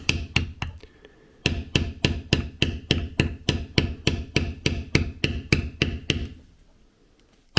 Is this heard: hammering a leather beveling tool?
yes